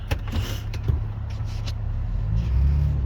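Steady low engine rumble and road noise inside a 2004 Nissan Murano on the move, with a few brief clicks and the drone swelling slightly louder toward the end, no talking.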